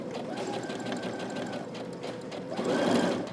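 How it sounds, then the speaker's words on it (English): Sewing machine stitching a folded hem on slacks at a 5/8-inch seam allowance, a steady close whirring drone that rises in speed near the end, running on its own. "I'm going to stitch using 5/8 of an inch seam allowance."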